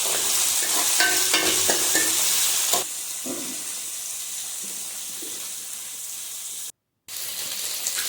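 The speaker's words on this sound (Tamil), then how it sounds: "அதையும் போட்டு நல்லா வதக்கிக்கலாங்க" Tomatoes sauté in a pan for a jackfruit seed kurma, a steady close sizzle with stirring clatter that thins to a quieter hiss partway through and drops out briefly near the end.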